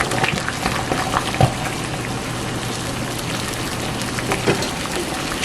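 Hot water used to sterilize baby bottles at home, a steady bubbling, boiling wash that runs close and continuous, with a brief knock partway through.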